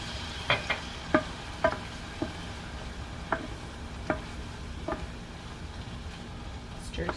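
Dry white wine hits a hot pan and simmers with a soft steady sizzle, broken by occasional clinks and scrapes of stirring, while someone talks.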